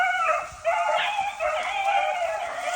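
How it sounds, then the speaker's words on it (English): A beagle hunting dog on a swamp rabbit hunt yips and whimpers close by in a steady stream of high, excited cries, with no pause across the short stretch. "Good pup. Good dog, Spear."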